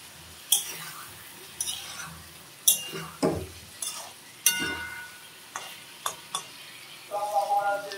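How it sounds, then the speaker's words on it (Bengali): Eggs and potatoes being stirred and sautéed in a pan, with irregular sharp clanks of a utensil against the pan over a low, faint sizzle, close by and spaced a second or so apart, no talk. "এখন ভালো করে নেড়ে দেবো। তো বন্ধুরা আমি ডিমগুলো কষানোতে দিয়ে দিলাম।"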